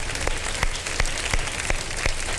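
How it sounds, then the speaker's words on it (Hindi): Applause for a guest on a Ramadan iftar television show, a dense, steady wash of many hands clapping at moderate loudness with a few sharper claps standing out, and no talking over it. "एक बार भरपूर तरीके से इनके लिए तालियां"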